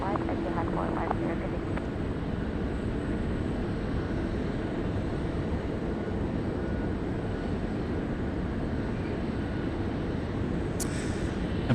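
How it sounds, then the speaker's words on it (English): Aircraft at Sydney Airport during the morning rush: a steady, broad engine rumble and roar from planes nearby that runs through the whole stretch, with voices talking over it. "Right here in front of us, all the good aircraft, all the big ones."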